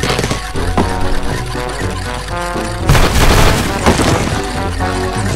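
A loud booming dynamite blast in Angry Birds bursts in over busy game music, followed by crackling debris and a rumbling tail.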